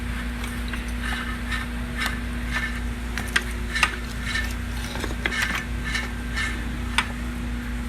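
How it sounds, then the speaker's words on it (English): The factory alternator on a Ford 6.4 Powerstroke diesel with cracked pistons runs with a steady hum, while faint irregular ticks and light metallic clicks sound close by, with no talking. "Let's look at this alternator here. This is factory alternator, listen."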